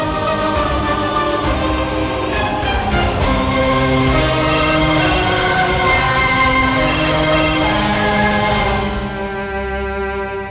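A phone ringtone plays a steady repeating melodic chime, loud and unbroken for about ten seconds, with a musical backing underneath that fades toward the end.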